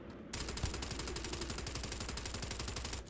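Sustained rapid gunfire rattles in the Starfield video game during a fight at a walled-off structure, a dense, continuous burst at moderate loudness.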